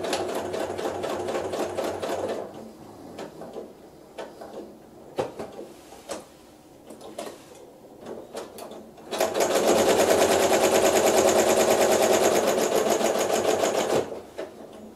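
A sewing machine stitches a quilt block seam, running in a steady buzzing burst at first, pausing amid light handling clicks, then running again at length close by.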